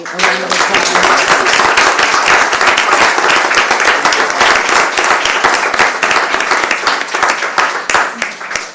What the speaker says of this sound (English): can we all give Luke and Lily a round of applause?